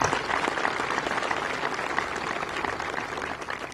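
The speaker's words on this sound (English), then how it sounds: "Please join me in acknowledging these individuals with a round of applause" Steady round of applause from a commencement audience acknowledging the Fine Arts Division, dense clapping holding at an even level throughout without a break.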